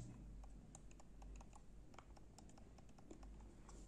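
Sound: quiet clicks of a Logitech M331 Silent Plus wireless mouse

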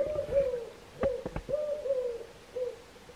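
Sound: owl hooting trapped inside a stove

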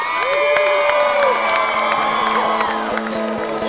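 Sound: guests applauding and cheering for newlyweds

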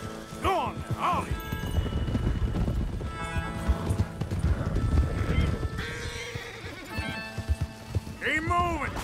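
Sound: horses moving in video game Red Dead Redemption 2

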